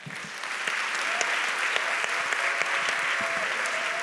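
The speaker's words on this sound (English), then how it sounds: "So I want to give another round of applause." Steady, dense applause from an audience at a live author conversation, loud and continuous throughout with no break.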